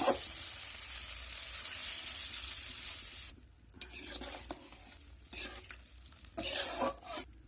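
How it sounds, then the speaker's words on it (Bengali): Hot water poured into a pan of spiced potatoes frying for a cabbage and egg dish, a loud steady sizzle that breaks off into quieter bubbling, scraping and stirring noises. "তো জলটা আমি গরম করে নিয়েছি, সেই গরম জলটাই আমি এর মধ্যে দিয়ে দেবো।"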